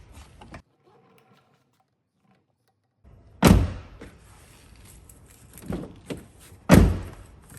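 A Ford Ranger door is shut several times, each a loud, close, hollow thunk with a short rattle, separated by quieter handling clicks and latch mechanism noises.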